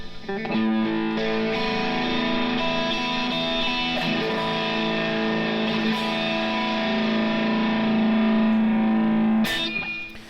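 An overdriven electric guitar holds a sustained, distorted chord that rings continuously for about ten seconds, loud and thick, with a brief scrape near the end.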